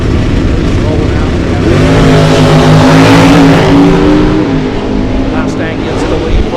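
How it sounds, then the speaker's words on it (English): A factory stock Ford Mustang and a COPO drag race car launch at a drag strip, their engines roaring loud and sustained while an announcer talks over the noise. "Mustang gets the lead first. Here comes the Copo."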